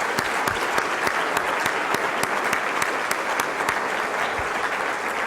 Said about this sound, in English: Seniors, let's give them a huge round of applause.